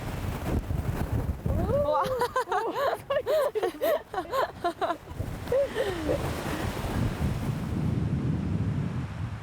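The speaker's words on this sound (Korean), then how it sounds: "한껏 목청을 높이는 바람." Strong wind buffets the microphone on a seaside cliff path on Cheongsando island, a loud continuous gusty roar with waves beneath, while people talk over it.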